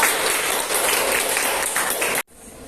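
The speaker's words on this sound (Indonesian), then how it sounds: "Tepuk tangan untuk semua kelompok" Classroom students clapping for the groups, a loud, dense burst of applause that stops abruptly near the end, leaving quiet room noise.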